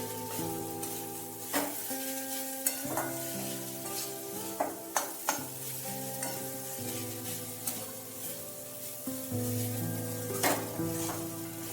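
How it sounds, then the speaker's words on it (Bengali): Poppy seeds fry and sizzle steadily in a pan with red amaranth greens, garlic and roasted peanuts, while a spoon stirs and scrapes with frequent clinks against the metal. No one speaks. "একটু পোস্ত। ভালোভাবে একটু নেড়ে নিতে হবে।"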